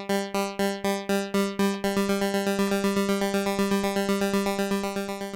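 A bright synthesizer on a Eurorack modular system repeats one pitched note as a one-note arpeggio in a fast, steady pulse, starting with slower plucks and then speeding into a rapid stream.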